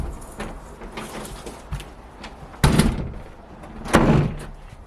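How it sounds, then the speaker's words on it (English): An interior door slams shut twice in a home, each a loud, close thud standing out from quieter room noise, with softer knocks and bumps between the slams. "Biscuits, that door has been slamming all day every time I close it"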